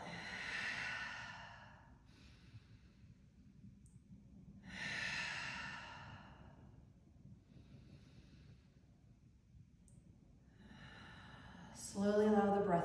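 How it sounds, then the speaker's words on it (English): Several slow, deep clearing breaths taken in a seated yoga position, each a long airy exhale heard close and alone, separated by quiet pauses. "take a few rounds of clearing breath"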